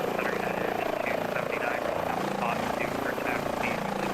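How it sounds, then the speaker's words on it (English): An Airbus H145 helicopter hovers on autopilot in Microsoft Flight Simulator, a steady, even rotor and turbine drone with no breaks. "helicopter is now hovering on autopilot"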